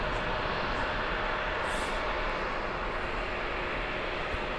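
A jet airliner departs LAX with a steady, loud broadband engine roar that holds evenly throughout, heard from fairly close with no talking over it.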